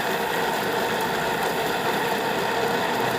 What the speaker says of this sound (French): Ça fait du bruit, c'est les fruits.